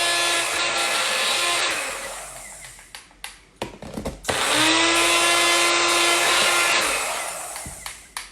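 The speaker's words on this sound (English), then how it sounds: "We're going to put it in our blender." Blender whirring through homemade Greek salad dressing, a loud sustained motor whine that stops for a moment with a few clunks and knocks, then runs again before slowly winding down.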